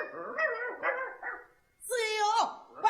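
A small dog barks in a few quick, yappy bursts, then gives a higher, drawn-out whining yelp. The calls are close and fairly loud, with a short gap of silence in between.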